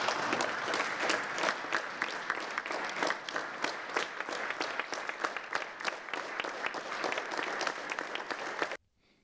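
Sustained applause from a large audience at a United Nations World Tourism Organization Commission for Africa gathering, following Nigeria's tourism presentation. It fills the room with steady, dense clapping and no talk, then stops abruptly at the end.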